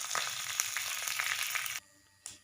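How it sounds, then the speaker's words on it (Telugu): Mustard seeds, cumin and lentils sizzle and crackle steadily in hot oil, with dense close spitting pops for about two seconds before the frying noise cuts off abruptly. "ఆయిల్ కొద్దిగా హీట్ అయిన తర్వాత ఆవాలు, జీలకర్ర, మినపప్పు, శనగపప్పు, తాలింపు గింజలన్నీ కూడా వేసుకోవాలి ఫ్రెండ్స్."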